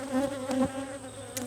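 Honeybees buzzing steadily up close at an opened hive, a dense droning hum with slight wavering pitch and no voices.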